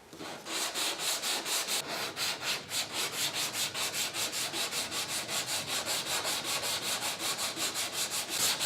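Rhythmic back-and-forth hand sanding of SPI epoxy primer on a 1972 Camaro body, with an even scratchy stroke about three times a second, close and steady throughout.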